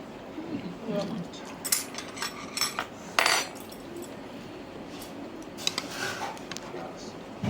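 A spoon scoops rice from a dish in a Korean restaurant, giving light metallic clinks and scrapes against the tableware in a scattered rhythm, with some quiet speech around it.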